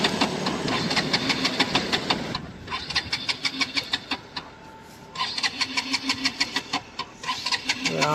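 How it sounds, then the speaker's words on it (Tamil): A Bajaj Pulsar RS200 BS6 motorcycle engine cranks and fires, running with a rapid pulsing beat, cutting out briefly in the middle, then catching again and revving in uneven bursts, close and fairly loud. "இப்போ திருப்பியும் ஸ்டார்ட் பண்ணோம். வண்டி ஸ்டார்ட் ஆகிருச்சு"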